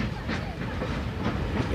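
A special passenger train with freight cars, passenger coaches and a dining car travels along a railway in China, a steady rumbling roll with rhythmic clickety-clack of wheels over rail joints.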